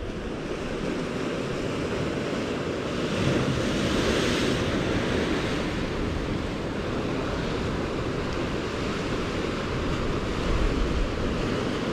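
Steady, loud wash of sea waves breaking on a rocky shore during winter sea fishing, mixed with rumbling wind buffeting the microphone, continuous with no talking.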